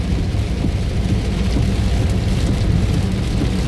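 A downpour of heavy rain on the road from Comilla to Dhaka forms a continuous, loud hiss and roar that stays even from start to finish.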